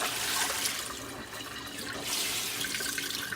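Tap water runs into a sink while freshly tie-dyed fabric is rinsed under it, a steady close splashing hiss that shifts slightly as the cloth moves beneath the stream, with no talking.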